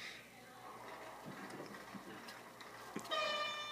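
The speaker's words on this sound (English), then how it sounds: "Well, already another high-speed train going the other way." A RENFE high-speed train in Trainz Simulator 2 rumbles past with a rising rush of noise, and a horn-like tone sounds clearly near the end over steady background hum.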